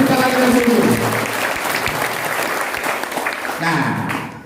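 Audience applause fills a community gathering for a group iftar meal, steady dense clapping holding for several seconds before thinning out as a voice begins speaking again.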